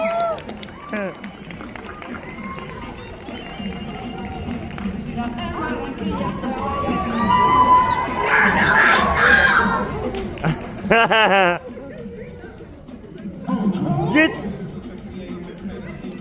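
A comic con crowd in Albuquerque raises loud screams and cheers in a large hall. The noise builds to a sustained roar of voices, then drops off sharply and swells again, with people talking nearby.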